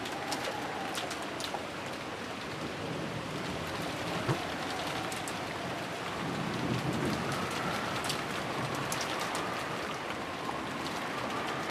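Steady rain falls on a garden, a dense continuous patter with scattered drips, while a dove coos faintly in the background.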